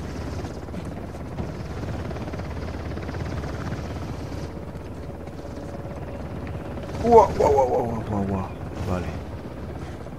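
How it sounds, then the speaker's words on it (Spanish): A helicopter in the video game Uncharted: The Lost Legacy thrums with a steady rotor chop beneath Spanish speech, while a voice cuts in loudly near the end over the continuing drone. "En cuanto me veo el helicóptero, estoy perdido."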